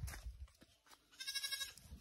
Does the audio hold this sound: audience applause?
no